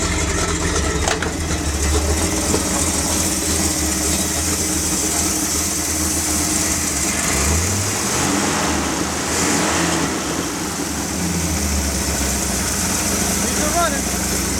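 A dump truck under rebuild starts up and its engine runs with loud, steady rumbling and revving throughout, close to the listener.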